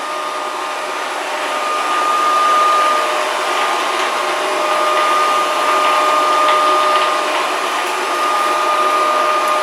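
A Proscenic 790T robot vacuum cleaner runs close by with a steady, loud motor roar and a thin, constant high whine, unbroken for the whole stretch, with no talking.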